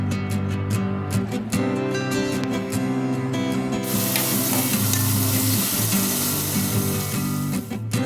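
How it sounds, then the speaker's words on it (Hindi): Meat sizzles and fries with ginger garlic paste in a hot pan for tamatar gosht, with occasional stirring scrapes, loud and continuous throughout. "अदरक लहसुन के साथ भी 1-2 मिनट के लिए इसे फ्राई कर लेंगे।"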